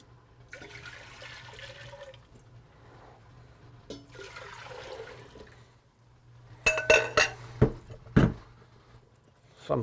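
Water pours into a jar of cider-vinegar dill pickle brine, first as a soft, steady gurgling stream. Then comes a run of sharper glassy clinks and splashes, close by, with no talking.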